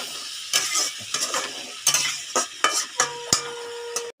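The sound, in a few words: sautéing ground spices and tomato in a pan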